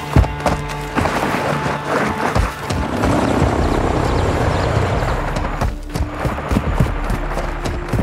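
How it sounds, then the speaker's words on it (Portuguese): Game helicopter rotor thumping in Call of Duty: Modern Warfare 2, amid clanks, thuds and gunfire-like bangs, a busy mix of mechanical noise without speech. "mandei um helicóptero."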